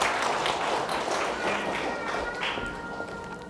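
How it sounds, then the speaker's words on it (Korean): Steady audience applause at a parents' school seminar, continuous and moderately loud for a few seconds, tapering slightly toward the end. "우리 한번 박수 한번 쳐주시면 감사하겠습니다"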